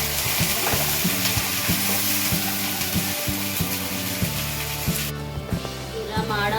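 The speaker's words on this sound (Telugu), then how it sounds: "ఇవి వేగినవి కొద్దిగా ఆయిల్ వేసుకొని ఇంకా మిగిలిన బెండకాయలు వేసుకొని ఫ్రై చేద్దాం." Okra (bhindi) fries in oil in a pan, a dense continuous sizzle with regular light taps and scrapes of stirring, close and fairly loud.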